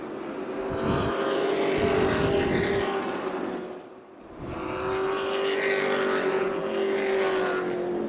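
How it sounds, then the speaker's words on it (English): Race cars roar through turn 4 at Tucson Speedway, a banked short oval, in a loud sustained engine wash that dips briefly as one pack passes and then swells again with the next. "We have 5 laps to go this time as these cars make their way through turn 4."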